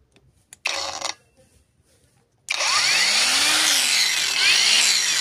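Mailtank MK15 cordless brushless angle grinder: a brief whir, a pause, then the motor spins up to a loud, steady high-pitched whine close by, with slight pitch wavering as it runs, and no talk.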